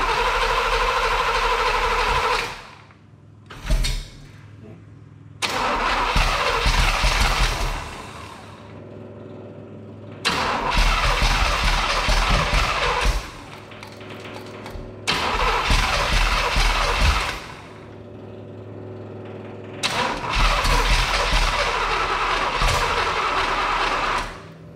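A Ford Model T hot rod engine cranks and catches repeatedly on its first start, firing in loud bursts of several seconds each, separated by short pauses, with the motor roaring close by each time before cutting out.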